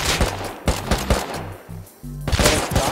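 Rapid gunfire in a Fortnite-style building shooter, several quick bursts of loud, sharp shots in close succession, followed by a denser volley at the end, with no voices.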